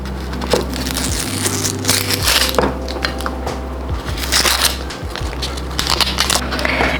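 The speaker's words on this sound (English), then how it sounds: "First we're going to peel our onions." Onions being peeled by hand, dry papery skins crackling and tearing in close, loud bursts over a steady low background hum, with short pauses between pulls.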